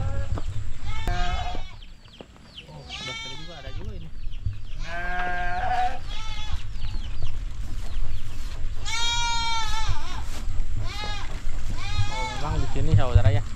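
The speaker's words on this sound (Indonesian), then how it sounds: "ada kambing di luar sana" Goats bleat repeatedly outside village houses near a forest, loud nearby calls coming in several bursts over a low steady rumble, with people talking now and then.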